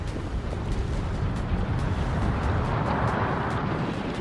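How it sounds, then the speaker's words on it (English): The sun exploding in the video game Outer Wilds, a dense, continuous rumbling roar with a crackling texture that stays loud and steady throughout, with no voices. "That is the sound of the sun exploding."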